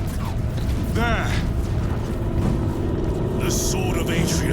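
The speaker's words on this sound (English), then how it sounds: "I hear engines." Engines roar in a loud, steady rumble through a Warhammer 40K: Space Marine 2 battle scene, with mechanical clanks and brief swooping tones layered on top.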